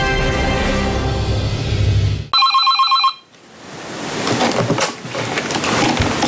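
A telephone ringing on a hotline, a loud continuous electric bell ring that breaks into a brief chirping ring tone, then fades into background noise.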